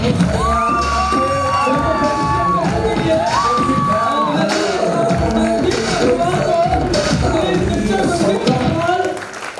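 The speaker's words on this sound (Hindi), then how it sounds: "जोरदार ताली प्लीज।" A stage audience cheers and shouts for a guest being welcomed, a loud, dense crowd roar with whoops and raised voices that holds steady for about nine seconds before cutting off.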